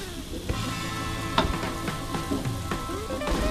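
Young corn, vegetables and meatballs stir-fry in a pan with a steady close sizzle, broken by periodic scraping and clinking of the spatula as the food is tossed.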